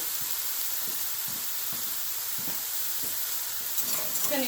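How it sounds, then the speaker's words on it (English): A spoon scrapes rhythmically through a pot of vegetable beef soup on a Great Majestic wood stove, with regular stirring knocks under a constant soft sizzle and a brief clatter near the end. "Just going to give this a quick stir before I do anything else."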